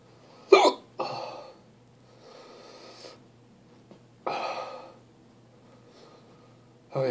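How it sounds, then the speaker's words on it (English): Sharp, close hiccups from a man eating a very hot Yellow Cardi Scorpion pepper, two strong bursts a few seconds apart with softer breathy gasps and snorts between them. "Pain in the ass hiccups."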